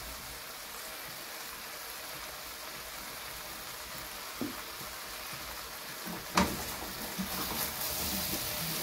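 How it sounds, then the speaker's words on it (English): Matoke (green cooking bananas) being stirred with black pepper and seasoning in a dry pan with no water added, giving a steady soft sizzle and hiss with a couple of brief scraping knocks. "Mix well so that the seasoning can go to all the matokes."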